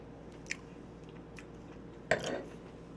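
Close, quiet chewing of grilled tomahawk steak, with a small bite early and a louder crunching chew near the end over low background noise.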